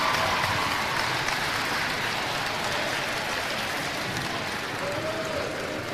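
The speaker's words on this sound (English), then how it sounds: "Ladies and gentlemen, a big round of applause for the Northfield" A gym crowd at a high school volleyball section championship awards ceremony applauds in a steady, moderately loud wash of clapping that fades slightly toward the end, with no clear talk on top.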